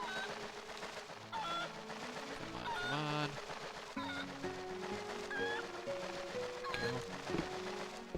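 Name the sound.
chickens in video game Twilight Princess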